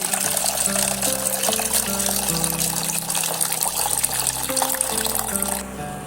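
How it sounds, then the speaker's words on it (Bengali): Water poured steadily into a mixing bowl while preparing steamed semolina pitha, a continuous trickling pour under background music that stops just before the end. "এখানে আমি একটা মিক্সিং বোল নিয়েছি আর বোলের মধ্যে বেশ কিছুটা পরিমাণে এখানে আমি পানি অ্যাড করছি"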